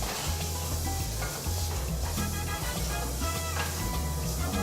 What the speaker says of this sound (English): what we're going to do is just saute this until, a little lightly, until the onions become translucent